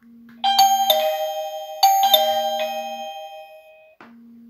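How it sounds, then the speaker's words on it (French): A wireless smart doorbell chime rings twice in bright, ringing tones, each press bringing a multi-note ding-dong that decays slowly, with a faint low hum beneath and a short click near the end. "c'est bien le carillon qui sonne et qui affiche le voyant bleu à chaque appui sur la"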